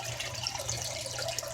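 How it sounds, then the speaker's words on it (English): Water steadily flowing and overflowing in aquaponic tilapia fish tanks, a continuous soft trickling and splashing with a low hum underneath, quiet and unbroken. "As you can see, in both tanks, the water never stops flowing,"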